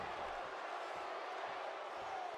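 A crowd roars in a WWE 2K17 wrestling match, a steady, broad wash of cheering with no breaks for its whole length.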